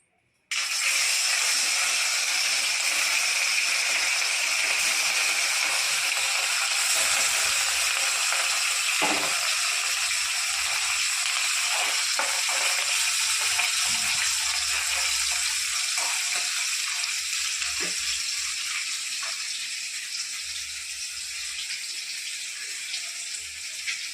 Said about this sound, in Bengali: এবার আমি কড়াইতে দিয়ে দেবো মাছগুলো আগে করে যেহেতু তেলটা গরম হয়ে গেছে